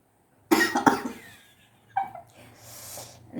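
During a playful sneezing and coughing challenge, a person coughs sharply twice in quick succession, then gives another short cough after a pause, followed by a breathy exhale. The sounds are close and alone in a quiet room.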